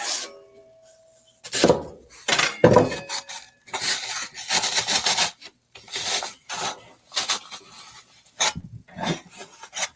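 A craft piece being trimmed by hand gives bursts of close, scratchy rasping and rubbing strokes, uneven in rhythm with short pauses between them, and no talk.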